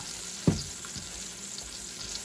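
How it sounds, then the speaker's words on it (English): Meat searing in a frying pan, a steady close sizzle with a sharp thump as a piece is set down, then the hiss continuing evenly. "Yeah, each side has to be seared."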